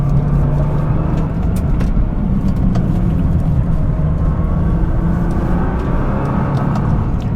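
A 2013 Nissan GT-R Black Edition in race mode, its turbo engine a loud, steady rumble as the car accelerates hard from inside the cabin, with no break in the drone.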